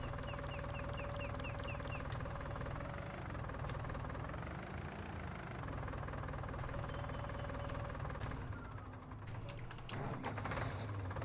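Farm vehicle engine running in Farming Simulator 19, a steady droning mechanical hum with a low knocking pulse throughout, fairly constant in level with no talking.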